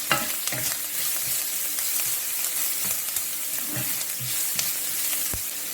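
Garlic and onion sautéing in a pot for Trinidadian smoked herring and tomatoes, a dense continuous sizzle with occasional light clinks and stirring knocks underneath.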